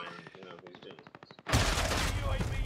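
A grenade goes off in the Call of Duty Warzone video game, a sudden loud blast that breaks in after a run of rapid gunfire and rolls on as a dense roar.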